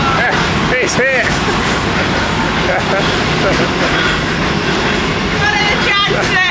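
A train rumbles across a bridge directly above a narrowboat cruising a canal into Birmingham, a loud continuous rolling clatter with excited voices talking over it.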